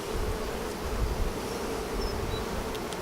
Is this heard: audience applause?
no